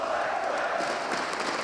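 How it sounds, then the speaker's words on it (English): A dense esports crowd roars steadily at a CS:GO semifinal between Liquid and NaVi on Dust2 at ESL One New York 2016, a continuous wash of cheering with faint swells, heard without any nearby voice. "Scary part is the crowd is starting to get back into it."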